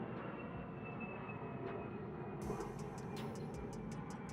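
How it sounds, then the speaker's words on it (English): An airplane passes overhead as a steady, droning roar that swells slightly, heard faintly and continuously with no voices. "let me let this plane go over"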